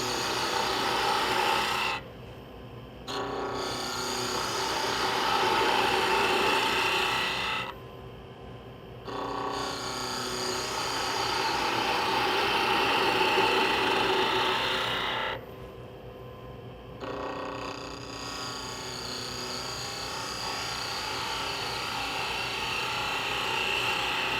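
A spindle detail gouge cuts a wooden tulip turning on a lathe, a steady close rasping scrape broken by three short pauses as the tool lifts off the spinning wood.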